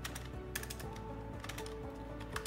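Typing into a chat window on a computer keyboard yields soft, rapid key taps over a steady low electrical hum, faint and continuous with a few slightly sharper clicks.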